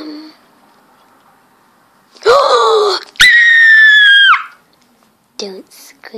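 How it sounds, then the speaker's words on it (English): A person screams loudly in two long, strained bursts close to the listener, followed by a few shorter, quieter vocal cries. "Don't scream"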